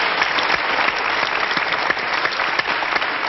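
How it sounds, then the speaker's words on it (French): A French television studio audience applauds with a steady, even wash of clapping, sounding slightly muffled and band-limited like an old broadcast recording, for a little over three seconds with no talk. "Bravo, on l'applaudit!"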